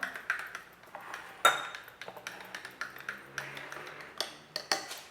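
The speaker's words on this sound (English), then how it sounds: "Because this is powder, let's give it a good stir for now." A spoon stirs powdered creamer into instant coffee for a latte, giving repeated light metallic clinks and taps against the cup in an uneven rhythm, close and fairly quiet, with no talking.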